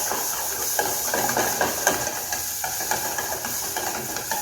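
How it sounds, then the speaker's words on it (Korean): Minced garlic and onion stir-fry in a pan with a steady hissing sizzle and scattered light scraping taps from the utensil, close and moderately quiet, with no voices. "여기에 다져놨던 마늘, 양파 절반씩 넣어주시고요. 달달달달 볶아주세요."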